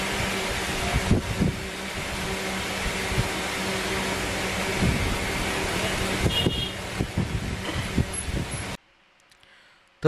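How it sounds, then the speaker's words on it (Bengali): A homemade 12 volt DC high speed fan runs with a loud, steady whirring drone and a faint tonal whine, then stops abruptly, leaving near silence. "শব্দ শুনে বুঝতে পারছেন এর কী পরিমাণ বাতাস হয়"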